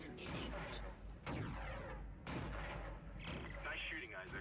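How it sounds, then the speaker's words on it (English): Turret gunfire in the Dead Space video game, heavy booming shots in bursts that overlap with sweeping, whooshing effects, loud and close, with a voice speaking over part of the sequence. "Nice shooting, Isaac."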